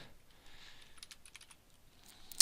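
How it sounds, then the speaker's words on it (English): Dates being typed on a computer keyboard: a quick run of soft, close keystroke clicks with short pauses between bursts, closing on one sharper, louder key press. "I'll hit enter again, type in the next date,"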